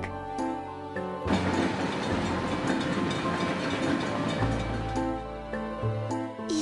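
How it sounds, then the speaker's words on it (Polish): A train rumbles past nearby, its rolling clatter and mechanical rattling steady and loud for several seconds before easing off. "pociąg."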